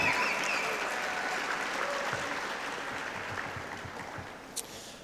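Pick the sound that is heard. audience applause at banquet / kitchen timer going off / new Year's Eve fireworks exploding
audience applause at banquet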